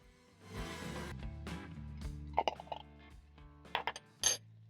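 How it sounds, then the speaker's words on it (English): A spoon scrapes and clinks against a dish while mixing seasoned fried potatoes, with a soft shuffling stir followed by several sharp, close metallic taps. "Mix up using my spoon."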